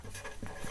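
A pen scratches across paper while a maths problem is worked out, a short close burst of soft strokes with no talk.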